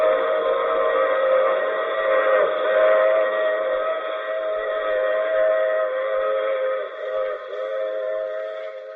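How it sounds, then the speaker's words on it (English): A sustained, multi-toned train whistle blows loudly and steadily for about nine seconds over a low rumbling of the train, a radio drama sound effect. "I take this same train every week at this same time."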